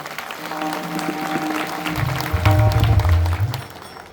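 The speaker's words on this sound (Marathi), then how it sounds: "त्याच्यासाठी एकदा जोरदार टाळ्या होऊन जाऊ दे" Villagers at a kirtan event clap for a child, a swelling round of applause mixed with voices and low, resonant tones, growing louder midway before fading.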